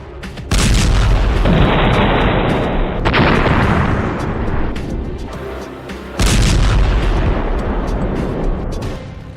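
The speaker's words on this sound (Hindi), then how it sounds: "हमास के लड़ाके इजरायल के उस बुलडोजर को धमाके से उड़ा रहे हैं" A loud explosion destroys an Israeli military bulldozer in the Tel al-Hawa area of Gaza, set off by Hamas fighters. Heavy booming blasts land at the start and again later, with sustained rumble and debris roar between them and no voices.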